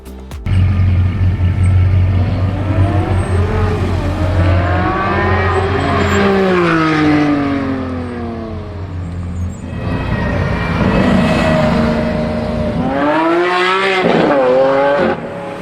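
A Lamborghini Countach LPI supercar driving in Need for Speed, its engine note loud and close, revving up through gears in rising sweeps, dropping back, then climbing again in quick shifts.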